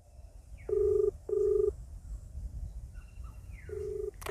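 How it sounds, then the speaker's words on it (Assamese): Ringback tone of an outgoing phone call that keeps ringing without being answered, with repeated paired electronic ring bursts separated by pauses over a quiet background. "ৰিং কৰি আছে কিন্তু ফোনটো ৰিসিভ নকৰে"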